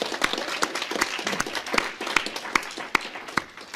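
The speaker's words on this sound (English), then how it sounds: "Let's give him a round of applause." Audience applause after an announcement at an evening lecture event on climate change lawsuits, a steady wash of many clapping hands with a few louder individual claps standing out, moderately distant and without talk.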